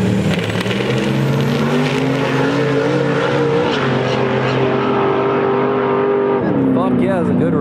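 Street race cars accelerating hard at an outdoor outlaw racing event in Colorado, a loud sustained engine roar with rising revs, close and continuous, voices under it near the end.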